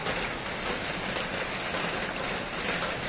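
Steady, dense monsoon rain in Kerala falling all around, a constant hiss with no pauses, fairly loud and close.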